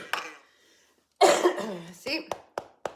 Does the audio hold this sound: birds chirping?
no